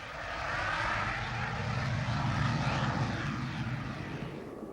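A zero-gravity aircraft dives near vertically, its engines giving a loud, broad, steady roar that swells early and holds, heard from inside the cabin with no talking.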